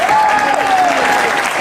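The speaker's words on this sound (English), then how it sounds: "Please give him a big round of applause." An audience applauds a guitarist being introduced at an Elvis tribute concert: loud, dense clapping from a crowd, close and sustained for a moment, with a faint tone ringing over it.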